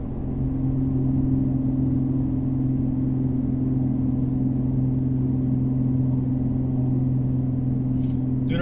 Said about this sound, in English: No drone, just road noise.